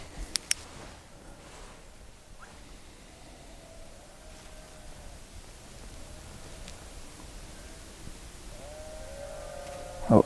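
Sheep bleat several times at a distance during a nighttime paranormal investigation, with long wavering calls drifting in over steady background hiss, the last call louder and closer.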